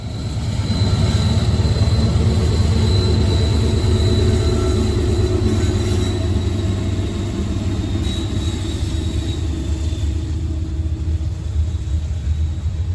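Norfolk Southern freight train NS 60C rolls past on the Newcastle district in Maryland, a loud, sustained rumble of wagons and wheels with steady rhythmic clatter and a faint high squeal, heard alone without voices.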